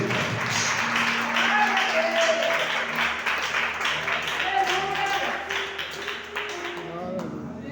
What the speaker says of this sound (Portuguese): Vamos aplaudir pela palavra de Deus.